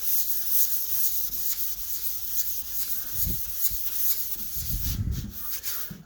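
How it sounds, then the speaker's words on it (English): Car primer on a Fiat Coupe being sanded with a flat pad and 400-500 grit sandpaper, a close, continuous scratchy rubbing in back-and-forth strokes with a few heavier thumps of the pad. "I'm just sanding it back."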